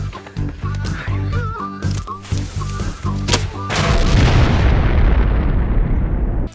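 A gas bucket shot with fireballs goes off outdoors: a run of sharp bangs and pops in the first few seconds, then a loud, sustained roaring blast that fades slowly, with some voices mixed in.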